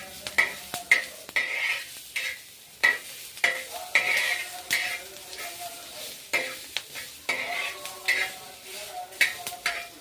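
Tomato frying in a pan for a homemade egg dish: close sizzling broken by frequent sharp spatula scrapes and clinks against the pan in an irregular rhythm.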